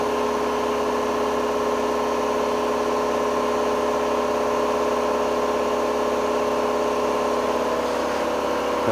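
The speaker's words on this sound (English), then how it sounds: "Sorry about the compressor" An air compressor runs in a workshop during floor repairs on a classic Mini, giving a steady mid-pitched mechanical drone that holds level throughout with no talk.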